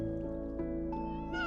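A house cat meows close by, a few short drawn-out cries in quick succession over a soft steady background hum.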